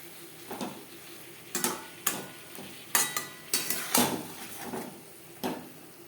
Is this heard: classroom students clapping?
no